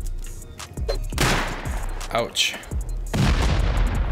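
Gunfire and a booming blast from a turret in a base-raiding video game, a few sharp bursts under spoken voices, ending in a louder, denser barrage.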